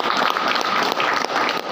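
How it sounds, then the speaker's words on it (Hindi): Sustained audience applause from a training session crowd, dense and steady throughout, close and fairly loud with no talking over it. "एक जोरदार ताली इनके लिए"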